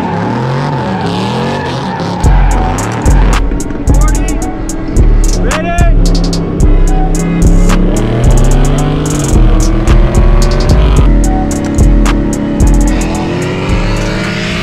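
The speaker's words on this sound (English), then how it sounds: "This is how you know Ed starts revving his engine." A procharged Ford Mustang GT revs hard in repeated bursts at a car meet, each loud rise and drop coming in a steady rhythm close by, with crowd chatter and other engines around.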